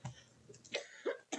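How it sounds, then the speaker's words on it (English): Several short, harsh coughs come in separate bursts across barely a second and a half, fairly close and at moderate volume, with a little breathy noise in between and no talking. "here comes the coughing again"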